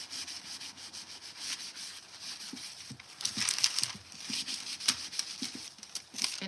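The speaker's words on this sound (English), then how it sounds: "I'm just working in the wax, blending as I go so it doesn't stay like harsh lines" Wax being rubbed by hand into a wooden spindle plant stand, close scratchy rubbing strokes in an irregular rhythm, soft at first and growing brisker and louder toward the end.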